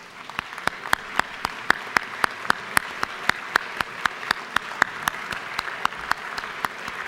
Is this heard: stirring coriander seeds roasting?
no